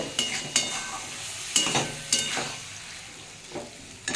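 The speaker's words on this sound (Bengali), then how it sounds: "চাপা দেবো না এইভাবেই আস্তে আস্তে ভেজে নেব" Bombay duck (lote fish) fries slowly in an uncovered pan, a soft steady sizzle broken by several sharp scrapes and knocks of stirring.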